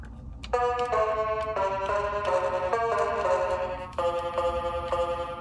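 A repaired toy electronic keyboard plays a run of bright, synthetic tones, each key press sounding a clear note in a stepwise sequence of evenly spaced notes with a short gap partway through.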